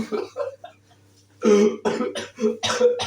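Several harsh coughs in quick bursts, close and loud, separated by brief pauses.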